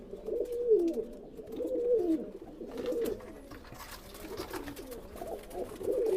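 Teddy 128 pigeons kept alongside tiger-eyed birds in a loft coo in low, rolling, repeated phrases, several overlapping bursts close by with a faint background rustle and no talking.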